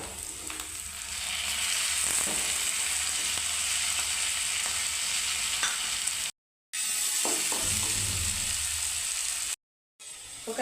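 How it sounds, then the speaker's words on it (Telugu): Tomatoes and onions fry in a pan for a dried prawn curry, giving a steady loud sizzle with occasional stirring scrapes and two brief drops to silence. "అప్పుడు మనం టమాటా ముక్కలు వేసుకుందామండి"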